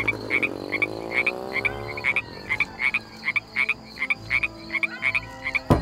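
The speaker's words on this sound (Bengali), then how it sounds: "রাস্তার দুই ধার থেকে শুধু শোনা যায় কোলা ব্যাঙের ডাক" Bullfrogs croak along both sides of a road on a rainy monsoon night, a dense chorus of repeated calls with steady rain or insect hiss beneath, fairly close and continuous throughout.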